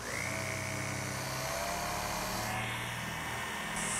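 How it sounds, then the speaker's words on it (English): A steady, high-pitched power drill whines continuously while drilling holes in a wooden hutch base, its motor pitch shifting slightly as it bites in, with a constant mechanical hum underneath. "These marks will precisely locate where I have to drill my holes in the base."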